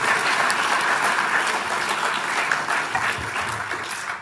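Steady, full applause from the audience at the Victoria Australian of the Year Awards ceremony, a dense even wash of clapping throughout.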